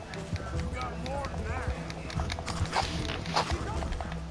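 Horse hooves clip-clop at a gallop in Red Dead Redemption 2, a steady rhythmic beat running under game dialogue and talk, with a whinny-like rise partway through.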